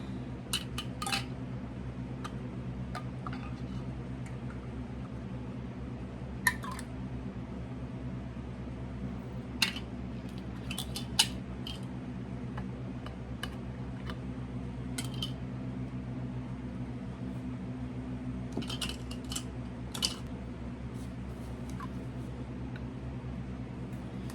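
Hot metal canning lids clink onto glass jars one at a time, giving sparse, light metallic taps over a steady fan-like hum in a kitchen.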